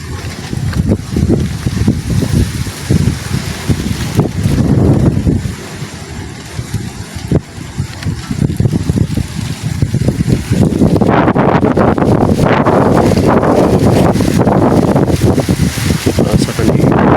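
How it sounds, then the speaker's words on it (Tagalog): Strong wind roars and gusts across the microphone in a continuous heavy blast that swells louder toward the end, with voices speaking faintly underneath. "Kusog ang hangin gyud."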